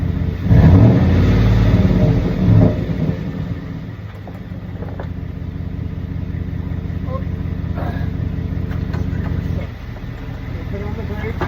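A 2014 Ford F-150 with the Coyote engine revs under light throttle, a loud close rumble that swells early and then settles to a steady idle-like drone while someone talks over it.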